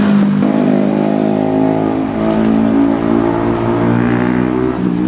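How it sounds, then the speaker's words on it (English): Motorbikes pass on a road outside St Michael's Church in Mytholmroyd, a loud continuous engine drone with rising and falling revs close by, no talking over it. "it's just motorbikes going past behind me that's making that noise"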